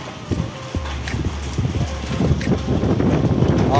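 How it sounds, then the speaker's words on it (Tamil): Hail falls hard in a storm of ice pellets and heavy rain, a dense rattling patter of many small impacts growing louder toward the end, with wind buffeting the microphone. "ஆலங்கட்டி மழை பெய்யுது"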